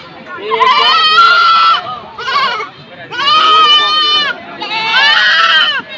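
Goats at a crowded rural livestock haat in Ambari bleat loudly and close, four long wavering cries in a row with short pauses between them.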